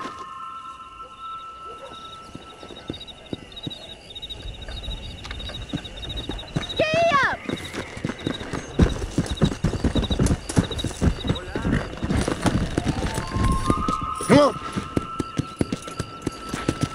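Horses galloping at full speed in the video game Red Dead Redemption, with rapid, loud hoofbeats drumming close by and a sharp neigh, as voices talk and music plays underneath.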